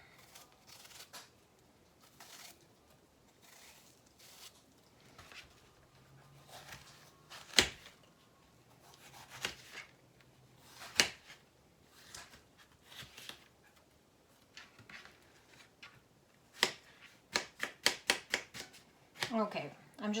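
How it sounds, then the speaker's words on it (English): Sharp knife strikes dicing apples on a cutting board, a few irregular chops followed by a quick rapid burst of taps near the end, close and moderately loud over quiet room tone. "Okay, I'm just gonna get these all diced up"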